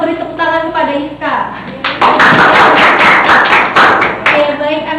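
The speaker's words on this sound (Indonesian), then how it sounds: "kita beri tepuk tangan kepada Iska" A classroom of students claps for a classmate, a loud burst of dense, overlapping hand claps up close, preceded by a teacher speaking Indonesian.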